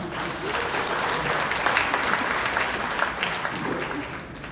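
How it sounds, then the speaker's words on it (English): Graduates at a commencement ceremony applaud steadily, a full crowd clapping throughout at an even, moderately loud level. "Give yourselves a round of applause"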